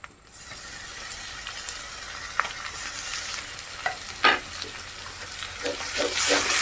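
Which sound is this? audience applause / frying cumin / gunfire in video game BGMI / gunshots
frying cumin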